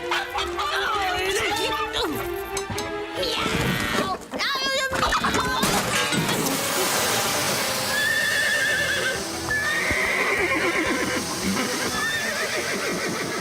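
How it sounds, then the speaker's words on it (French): Cartoon horses whinny shrilly over busy, loud hoofbeats and commotion, with voices talking and shouting through much of it and the whinnies dropping to a fainter pitch later. "Marie et Rosa, aidez-moi à calmer les chevaux!"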